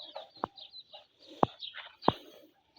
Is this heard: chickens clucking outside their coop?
yes